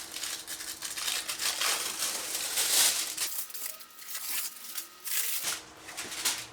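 A guitar part freshly taken out of its mould is unwrapped, with close crinkling and crumpling of wrapping material in bursts, some louder rustles and brief quiet gaps.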